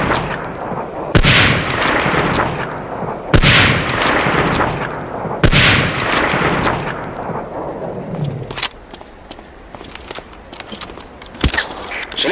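Three loud Springfield 03 sniper rifle shots from Medal of Honor Allied Assault crack out at steady intervals, each with a long echoing tail, followed by faint footsteps and a few small clicks.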